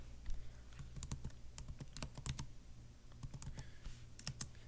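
A computer mouse clicks repeatedly at a desk, with sharp, close taps coming in irregular quick bursts and short pauses, fairly quiet, with no talking.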